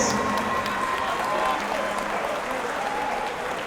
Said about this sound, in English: let's cheer for both fighters in what was a fantastic main event